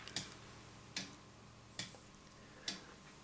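A foliot and verge clock built from 20 parts ticks four times at a slow, even pace, each tick a crisp, close click over a quiet background.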